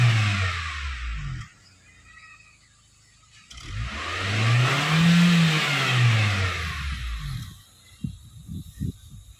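A Wuling Almaz car engine revs up from idle in two or three rises and falls, each climbing to a smooth, loud whine and dropping back to a quiet idle, heard close with no talking.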